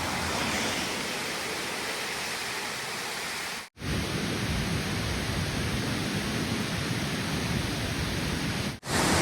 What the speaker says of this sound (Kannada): ಇದೊಂದು ದೊಡ್ಡ ಫಾಲ್ಸ್ ಸಿಕ್ಕೈತ್ ನೋಡ್ರಿ ನಮಗೆ ಕೇರಳದಾಗ